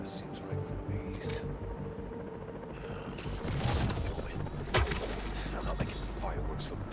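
Fireworks go off in the Spider-Man 2 video game as a few sharp crackling bursts through the middle of the stretch, partly under voices talking.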